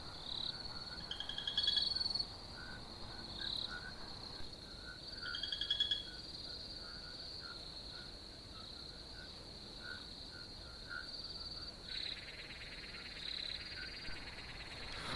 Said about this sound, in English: I give you crickets.